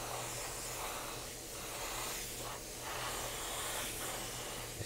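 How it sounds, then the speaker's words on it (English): A GSI Creos PS290 fan pattern airbrush spraying wet blue violet color shifting paint, giving a soft continuous hiss that swells and eases in several passes, close and fairly quiet over a low background hum. "I'm using my GSI Creos PS290 fan pattern airbrush to spray these shapes"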